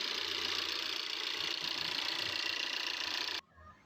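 Tata Indigo car engine idling and revving with fluctuating RPM, a steady dense mechanical drone heard close up that cuts off abruptly near the end.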